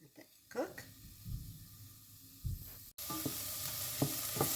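Onions and peppers sizzle in olive oil in a pan, with a few stirring scrapes and a louder steady frying hiss in the final seconds, a voice talking over the first part.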